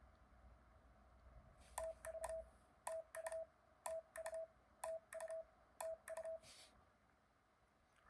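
Clusters of short electronic Morse code beeps repeat in a regular on-off pattern at one steady pitch, fairly faint, over a quiet hiss.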